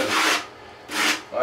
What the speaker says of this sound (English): I'm just going around the edge, wipe with the sponge around the edges here.